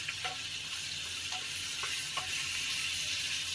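Red chillies and whole spices dry-frying in a pan for dhaba-style palak paneer, giving a close, continuous hissing sizzle with a few soft crackles and stirring clicks throughout.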